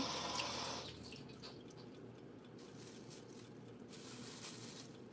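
A jar cover is rinsed under a running kitchen tap, a soft, steady stream of splashing water heard close by and fairly quiet throughout.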